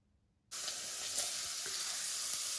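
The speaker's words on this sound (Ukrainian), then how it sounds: "Сало шкварчить." Sudden onset of loud, steady frying sizzle as strips of pork fat hit a frying pan after a brief quiet moment, crackling continuously and close by with no voices.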